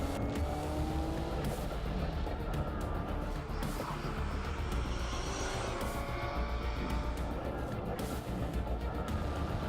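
Race cars on a slippery track, with a loud, continuous engine roar filling the clip. It swells and fades slightly as the cars pass.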